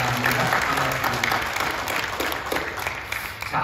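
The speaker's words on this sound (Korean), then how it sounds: "우리 기관에서 오신 분들 박수로 환영하겠습니다" A church congregation at a Saturday dawn prayer service claps warmly to welcome visiting members, a dense, continuous round of applause filling the room for a few seconds.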